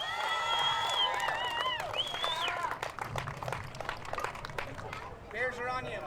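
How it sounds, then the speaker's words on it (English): A crowd at a dyno competition claps and cheers, with shouted whoops and cries rising over the applause and a voice also heard above the noise. "Let's give Todd a big round of applause."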